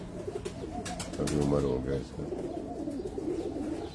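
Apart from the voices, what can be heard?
pigeon cooing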